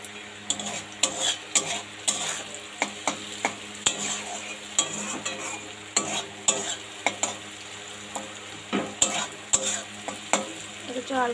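Potatoes frying in a pan while being stirred, a continuous close sizzle punctuated by regular, rhythmic scraping clinks of the spoon against the pan, roughly one or two per second.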